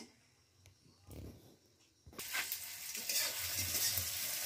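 Chicken cooking in a home kitchen, a loud sizzle bursting in midway and then hissing steadily, after a quieter start with light stirring and clatter.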